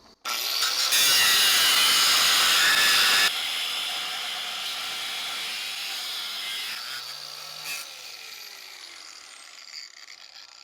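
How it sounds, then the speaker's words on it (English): Angle grinder cutting into an old hot water heater: a loud harsh metallic grind for a couple of seconds, then a long steady whine that slowly fades, close by and with no talk. "so I keep playing with the angle of the grinder"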